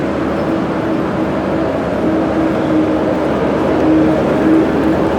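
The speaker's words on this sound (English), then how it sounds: "Here come the big trucks," Big trucks passing close by on a road, a steady loud rumbling roar of heavy engine and road noise that swells slightly toward the end, with no talking.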